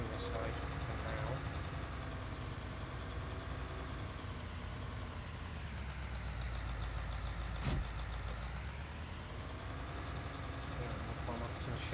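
A tractor engine in Farming Simulator 19 runs steadily with a low, continuous rumble from start to finish, a brief knock near the middle, and someone talking over it at times.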